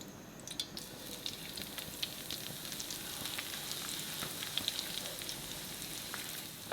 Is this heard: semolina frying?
yes